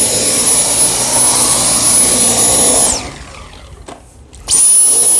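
A Dyson V10 Motorhead cordless vacuum with a direct-drive motorized cleaner head roars loudly while deep cleaning carpeted stairs with pet hair, then its power drops away briefly before surging back to full strength.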